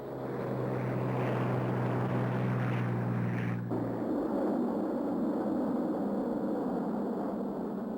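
WW2 propeller bombers fly with a steady droning engine roar that holds loud and continuous, one engine tone dropping away partway through while the broad rumble carries on, with no voices.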